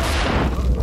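A bomb explosion in the video game Dirty Bomb, a loud, sustained low rumbling boom filling the whole brief moment with no talk.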